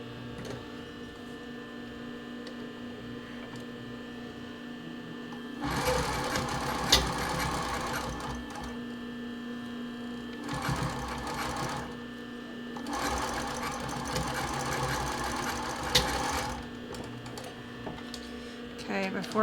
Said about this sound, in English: And this I'm just going to sew with a straight stitch.